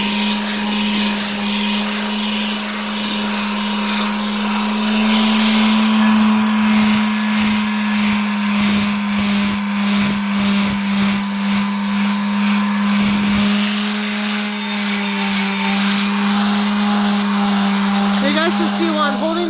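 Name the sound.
sander scouring rust off railplate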